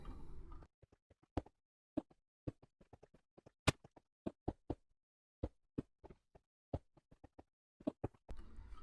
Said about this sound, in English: I'm going to place blocks on each side so that we do not fall down